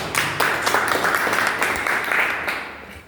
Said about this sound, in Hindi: सर के लिए जोरदार ताली दीजिए।